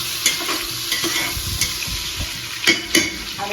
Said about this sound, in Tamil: வெங்காயம் பார்த்தீங்கன்னா நல்லா கோல்டன் ப்ரௌன் ஆகட்டும்